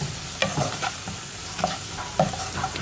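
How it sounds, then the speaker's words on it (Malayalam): Onion and turmeric powder sautéing in a pan, a low steady sizzle broken by several sharp scrapes and taps of a spoon stirring, close and fairly loud with no voices. "മഞ്ഞൾപ്പൊടിയും സവോളയും എല്ലാം ചേർത്ത് നന്നായിട്ടൊന്ന് വഴറ്റിയെടുക്കുക"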